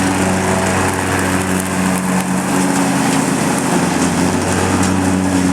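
John Deere lawn mower with a lowered blade and plugged discharge tube, mulching damp leaves: a steady, loud, continuous engine drone with broadband shredding noise throughout, no voices.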